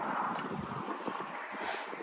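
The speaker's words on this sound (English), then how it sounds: "We live in the Tantamar Marsh, so it gets pretty windy out here." Wind blowing steadily outdoors across a marsh, a broad, continuous rushing noise buffeting the microphone, fairly loud and even throughout with no voices.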